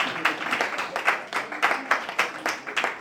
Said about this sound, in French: Est-ce qu'on pourrait l'applaudir?